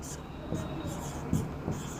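Chalk or a marker scratches across a board in short, soft strokes during a maths lecture on number systems, faint and close, with a few slightly louder scrapes.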